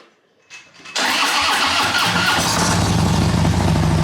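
A Road Glide motorcycle engine cranks briefly, then fires up and settles into a loud, steady rumbling idle close by.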